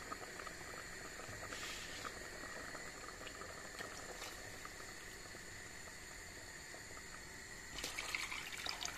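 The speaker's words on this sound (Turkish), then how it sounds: "Kaynayan çorbamızı aktaralım" Lebeniye, a yogurt soup, boils in a pot as a faint, steady bubbling simmer with slight liquid trickling. It grows a little busier near the end.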